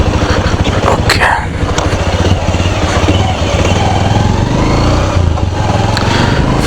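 A Bajaj Avenger 160 BS6 motorcycle engine while riding, a loud, close, steady pulsing thrum with slight changes in pitch throughout.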